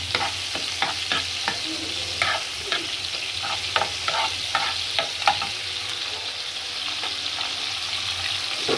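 Onions fry in a pan with beans and potatoes, giving a loud continuous sizzle with frequent spatula taps and scrapes in an uneven rhythm, close up and without speech.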